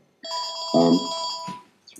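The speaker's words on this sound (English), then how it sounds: "Phone. Ringing in the changes as usual." Telephone bell ringing in a quiet indoor room, a steady electronic trill with a louder burst in the middle, about a second and a half long and then cut off.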